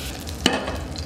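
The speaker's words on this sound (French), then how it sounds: "On va mettre un petit carré de beurre qu'on va laisser fondre." A small square of butter melting in oil in a saucepan, a soft continuous sizzle with a brief scrape of stirring in the middle, close and quiet.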